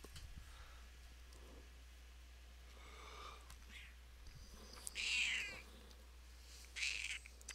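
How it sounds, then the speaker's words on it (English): A cat meows a few times, brief, fairly close calls separated by quiet gaps over a low steady hum, with one louder, drawn-out meow near the end. "Kitty cat making noise."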